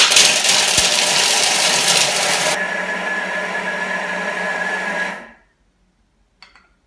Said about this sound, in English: I'm going to pop the lid on and whisk that until it's nice and sticky and combined.